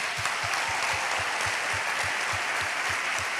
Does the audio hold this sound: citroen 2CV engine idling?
no